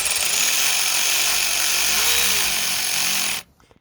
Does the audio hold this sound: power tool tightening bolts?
yes